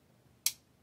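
Trigger reset of an Ed Brown Custom 1911 .45 ACP pistol, a single crisp, sharp metallic click, close and fairly quiet, alone against a quiet room.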